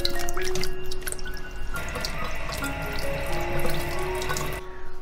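Tap water running into a sink or bowl where bamboo shoots soak, a steady splashing stream with drips, close and continuous, easing slightly partway through with no one talking.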